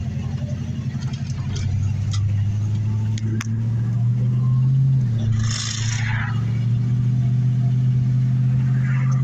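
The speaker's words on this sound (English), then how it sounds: "so y'all can see how this car runs" A General Lee replica car's engine runs steadily with a low hum close by, rising briefly as if revved before settling back to an idle.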